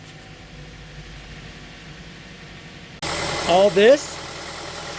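A 2010 Mazda5 engine idles after an oil change with a steady, even low hum for about three seconds, then a nearby voice speaks over the continuing engine noise.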